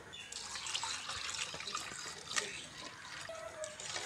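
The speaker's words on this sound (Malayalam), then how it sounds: "ഇനി ഇതിനകത്തേക്ക് നമുക്കൊരു 2 ലിറ്റർ വെള്ളം ഒഴിച്ചു കൊടുക്കാം." Water pours into a container of ground vegetable waste as part of making fertilizer. A soft splashing trickle with scattered drips runs at low volume throughout, and no one speaks.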